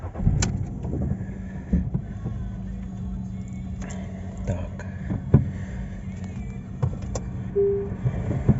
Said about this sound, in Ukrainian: давайте заведемо та проїдемося